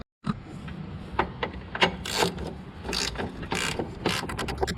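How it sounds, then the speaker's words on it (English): A ratchet clicks rapidly while tightening pillow block bolts on a John Deere Z810 zero-turn mower, a dense run of sharp mechanical clicks close by with no talking. "Now we gotta get these bolts for this pillow block tightened up."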